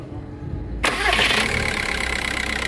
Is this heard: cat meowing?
no